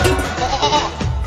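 A male goat bleats loudly and close, a wavering cry that fills the clip against steady background noise, with no speech over it.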